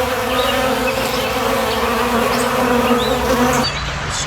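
Honeybees buzz in a dense, continuous, close drone that holds steady for several seconds before thinning out at the end.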